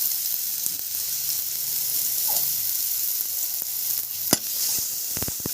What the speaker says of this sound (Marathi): मिक्सर केलेलं मिरची आणि लसणाची पेस्ट टाकूया आणि ते फिरून घेऊया